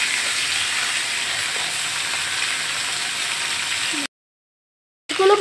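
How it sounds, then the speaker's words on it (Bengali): Belly pieces of chital fish fry in hot oil in a wok, giving a close, steady, dense sizzle for about four seconds. The sizzle cuts out completely for a moment, then returns loudly. "মাছগুলোকে ভালোভাবে ভেজে নেব"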